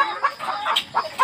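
Chickens on a poultry farm, recently moved from homemade cages to steel cages, cluck in a quick series of four or five short, clear calls close by.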